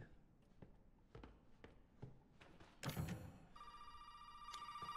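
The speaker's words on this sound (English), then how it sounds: "There's the phone." A telephone rings in the Resident Evil 7 video game, a steady electronic bell that starts partway through and continues to the end, preceded by soft footsteps and taps.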